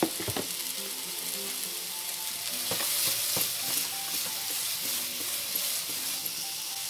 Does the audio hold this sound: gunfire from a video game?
no